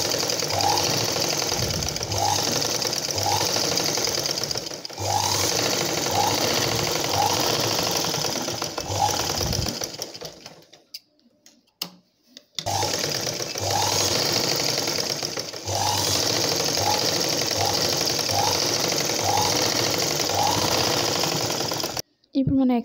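A sewing machine runs in steady rhythmic bursts while stitching a blouse, with a brief pause midway before the motor resumes; close and loud, no talking.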